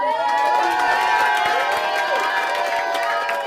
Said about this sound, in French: On n'a pas applaudi pour mamie qui a fait à manger. Est-ce qu'on peut applaudir?